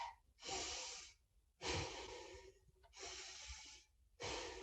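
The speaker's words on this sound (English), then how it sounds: "put your hand on your upper chest and just breathe into your upper chest" Slow, deep breaths drawn into the upper chest during a guided breathwork session, with long airy inhales and exhales alternating in a steady rhythm, close and soft with no talking.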